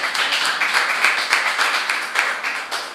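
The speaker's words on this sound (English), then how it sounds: "Give our teams another round of applause." An audience applauds the teams after a televised debate between an organised-crime and anti-corruption agency and a national fisheries authority; dense, steady clapping fills the room with no voices.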